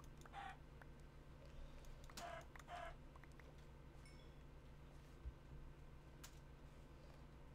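Short clucks from a few Minecraft chickens over a steady low hum, with soft, game-like ambient tones in the background.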